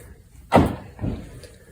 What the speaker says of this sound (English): so when you open the door, it jiggles and rattles